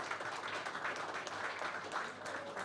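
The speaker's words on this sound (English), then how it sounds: "A big round of applause for DP World." Audience at a golf championship presentation for DP World applauding, a faint, steady patter of clapping throughout, somewhat distant.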